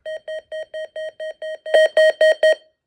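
Electronic beeps from a weather radio changing its alert volume: eight short even tones in a steady rhythm, the last four louder and harsher, close and alone.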